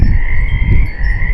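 A loud, dense chorus of pond frogs croaking continuously, with no voices, close and steady for the whole stretch.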